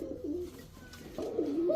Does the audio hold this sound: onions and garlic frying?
no